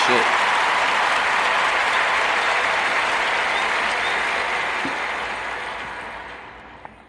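Sustained applause from a large audience, dense and steady, gradually fading toward the end, heard alone without talk.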